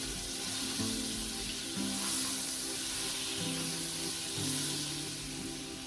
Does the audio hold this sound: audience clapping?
no